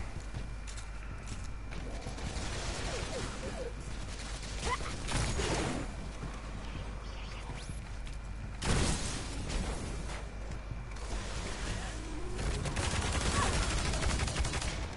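Rapid gunfire from the Minotaur weapon in Destiny comes in dense bursts, starting very fast and then slowing, with loud clusters of shots over steady game ambience.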